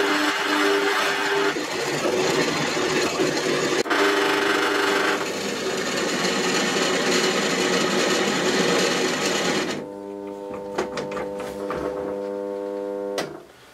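A Parkside PTBM 500 bench drill press bores into 10 mm steel plate at a lowered speed, grinding and rasping loudly and steadily, then the motor hum carries on alone with a clear tone once the cutting stops.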